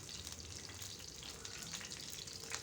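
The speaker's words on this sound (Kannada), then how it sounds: "ಇದು ಫಸ್ಟು ಕರಿಬೇವು ಚೆನ್ನಾಗಿ ಫ್ರೈ ಆಗಬೇಕು" Curry leaves crackle and fry in hot oil in a non-stick pan, a steady hiss with dense sizzling texture at a low, even level.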